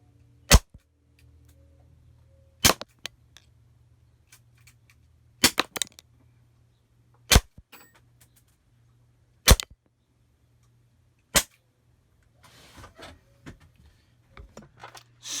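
Six sharp, isolated pops from an Elite Force airsoft revolver during a close-range shooting test, spaced about two seconds apart in an otherwise quiet room, followed by faint clicking and handling noises.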